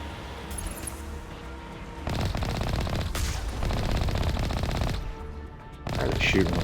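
Rapid automatic gunfire from Mass Effect Legendary Edition fills the scene, with long sustained bursts of shots and brief lulls between them, loud and steady over a game soundscape.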